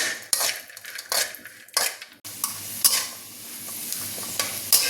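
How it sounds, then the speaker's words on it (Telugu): Cashews and raisins fry in ghee in a pan as a spoon scrapes and stirs, with clinks of metal on the pan and a steady sizzle underneath, close and alone. "కొంచెం నెయ్యి వేసి జీడిపప్పు కూడా వేయిద్దాము ద్రాక్ష ఇవి కూడా మంచి ఏర్పు వచ్చేలా వేయించాలి"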